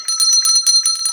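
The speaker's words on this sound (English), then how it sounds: "So just ringing the bell." A bright metallic school bell rings rapidly and continuously at close range, a dense clattering ring with a sustained shimmering tone and no voices over it.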